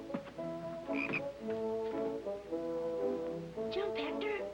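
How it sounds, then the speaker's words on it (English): A pet frog croaks repeatedly in a rural Western setting, its throaty, harmonic calls coming in bursts close by and fairly loud, with brief higher squeaky notes mixed in and no talk over them. "A real live frog"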